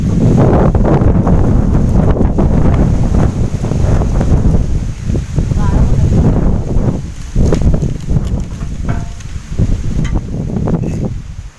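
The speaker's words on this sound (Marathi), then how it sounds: "किती वारा सुटलाय ना, पण चांगलं वाटतं" Strong evening wind buffeting the microphone outdoors in a Konkan village, a loud, continuous roaring rumble with gusty swells and a faint rustle beneath, no talking.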